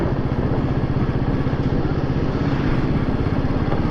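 A Royal Enfield Meteor motorcycle rides along a road, its engine giving a steady, loud, low thumping drone that runs without a break from start to finish.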